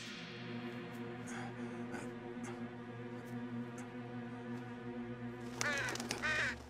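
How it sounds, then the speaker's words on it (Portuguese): A cartoon bird caws in an animated firefighter rescue show, a few sharp calls near the end over a steady background music bed, fairly faint. "É só um pássaro."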